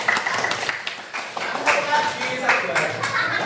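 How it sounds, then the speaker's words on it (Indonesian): A short burst of clapping from a group, scattered hand claps mixed in with people talking. "tepuk tangan buat Nadine."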